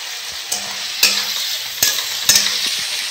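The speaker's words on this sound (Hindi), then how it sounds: "अभी अंडा भूंजेंगे, तो प्याज भूंज रहे हैं" Onions fry in a pan, giving a continuous close sizzle broken by several sharp clatters and scrapes of stirring, with no voices.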